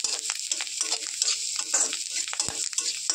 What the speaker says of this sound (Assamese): ইয়াতে অলপ লৰাই থাকিব লাগিব